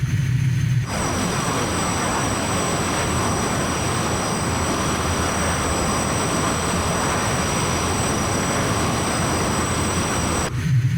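A Morane-Saulnier MS760 Paris jet at full throttle in a flight simulator gives a loud, steady engine roar and whine that holds evenly throughout, alone, cutting in and out sharply at the edges.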